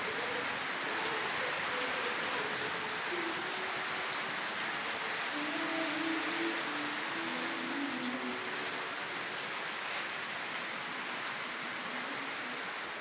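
Heavy rain falls steadily in a continuous dense hiss on outdoor surfaces, with faint distant sounds underneath and no talking.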